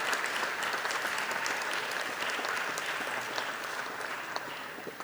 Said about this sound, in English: So a big round of applause for